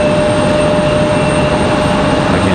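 An Icelandic airliner touching down at stormy Raleigh-Durham airport gives a steady, broad engine roar and rumble with a faint high whine, constant and fairly loud throughout.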